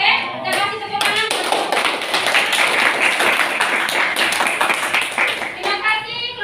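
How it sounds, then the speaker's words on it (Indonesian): A classroom of students claps together during a chemistry lesson on alkene isomers, loud rhythmic applause after a short gap, with brief voices at the start and end. "kita kasih tepuk tangan"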